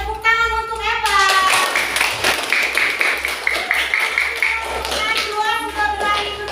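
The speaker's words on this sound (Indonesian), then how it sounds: "tepuk tangan untuk Evan." Children clap together in a classroom, with a steady burst of applause mixed with young voices and a teacher talking.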